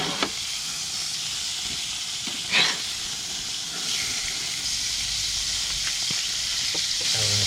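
Beyond Burger patties sizzling on a smoking RV grill, a steady broad hiss throughout with a few faint taps and scrapes, no talking.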